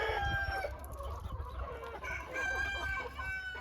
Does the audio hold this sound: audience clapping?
no